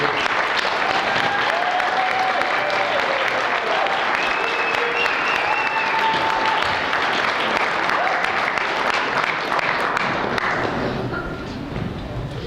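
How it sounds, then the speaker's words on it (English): A crowd at an induction banquet applauds steadily and loudly for several seconds, the clapping thinning out and fading near the end, with some voices mixed in. "And so, Joel Smith, would you stand up and take a round of applause here?"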